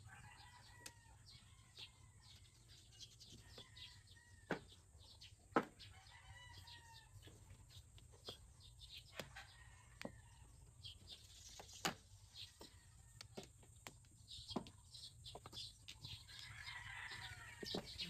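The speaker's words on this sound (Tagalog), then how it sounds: "Ganyan na mismo yung mga manok yan." Chickens cluck faintly in the distance in the Philippines, scattered calls and brief squawks over a low steady background hum.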